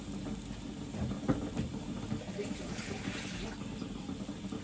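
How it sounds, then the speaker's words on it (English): Water pours steadily into blended pepper for a Nigerian ayamase stew, a continuous splashing, gurgling trickle heard close up for several seconds. "My pepper needs a bit more of water, so I'm gonna add a bit more water to this"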